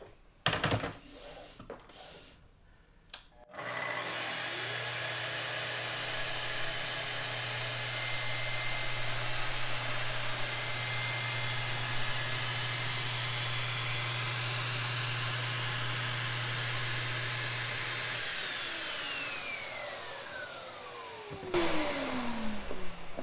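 A Festool TS55 track saw runs steadily for about fifteen seconds while cutting a splinter guard strip along its track, with a loud sustained whine that winds down as the blade stops, and scattered handling knocks at either end.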